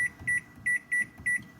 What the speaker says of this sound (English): Ooh, I started the microwave.